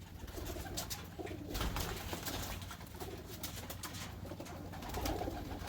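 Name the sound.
pigeons cooing in a loft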